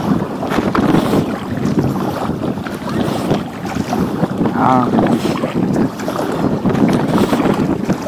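A steady headwind buffets the microphone on a winter packraft trip along the Rhine, a constant rushing roar with gusts throughout, while a voice briefly speaks once.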